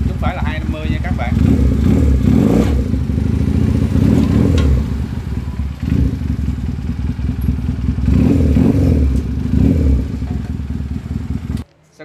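A 125cc motorcycle engine runs close by, a loud steady idle with periodic swells of revving and mechanical clatter, lasting throughout before cutting off at the end.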